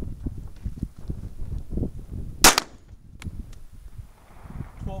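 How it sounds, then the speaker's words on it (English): Strike One pistol fired once at a range, a single sharp loud crack standing out from quiet background handling noise. "We'll do a sample of 5 shots."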